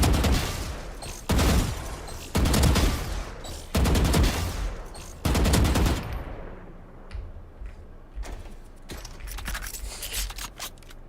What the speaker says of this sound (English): does it feel like the Vandal is firing slower than I remember?